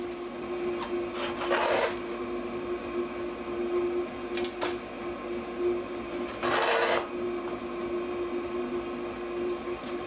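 Ash is scraped out of a diesel heater or stove in a tiny cabin in the boreal forest, with a few short rasping scrapes standing out over a steady background hum.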